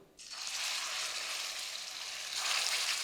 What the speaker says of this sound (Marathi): खिमा घातला आता याला पाच ते सहा मिनिटं चांगलं तेलामध्ये परतून घ्यायचं